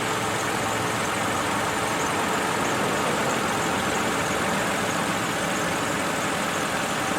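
A car engine idles steadily under load while its A/C compressor is charged slowly with liquid refrigerant, a loud, broadband running hum throughout with no clearly distinct drop in engine speed.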